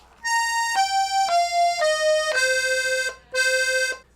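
A 32 bass accordion plays a simple two-chord song in C Dorian: a run of sustained reedy notes stepping downward one after another, then a short pause and one final held note, clear and close.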